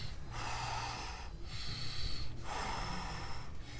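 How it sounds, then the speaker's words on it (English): Heavy, audible breathing from people holding a yoga pose in a bootcamp class, with loud breathy inhales and exhales in a steady rhythm of about three long breaths, close and alone with no talking. "It's okay to hear your breath."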